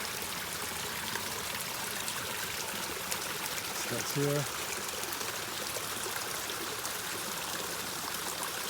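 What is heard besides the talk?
water flowing down garden waterfall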